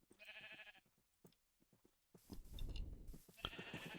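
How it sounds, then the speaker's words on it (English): Sheep bleat repeatedly in Minecraft, a cluster of several wavering cries near the start and again at the end, with a louder rushing, rumbling game noise filling the middle. "I've got too many sheep in there."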